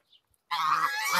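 Several geese honk loudly and continuously at close range while feeding on fresh greens in a poultry yard, after a brief near-silence with one faint chirp.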